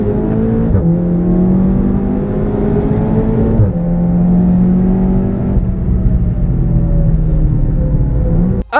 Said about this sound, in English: check out this clip where Carmrade in a Seat is chasing a McLaren P1